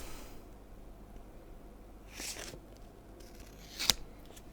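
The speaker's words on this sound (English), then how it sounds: "I have cut this paper into 2 halves." Scissors snip through a sheet of paper to cut it in half in a classroom setting, giving a brief rustling cut followed by one sharp, close snip against a quiet background.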